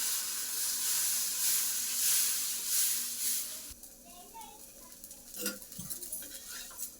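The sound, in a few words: dosa batter poured and cooking on pan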